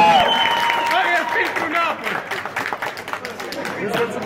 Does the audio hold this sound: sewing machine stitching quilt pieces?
no